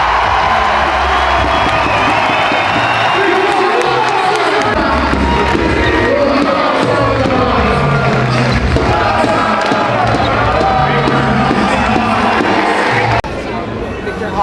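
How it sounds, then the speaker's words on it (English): A large crowd at a European semi-final event in France roars and cheers continuously, with shouting voices layered into a loud, dense wall of sound that drops off sharply near the end. "Could you hear everybody saying your name in the crowd?"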